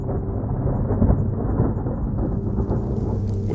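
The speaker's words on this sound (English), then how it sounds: "the skies opened up in a torrential downpour." Deep rolling thunder rumbles over a steady torrential downpour, loud and close, with no voices.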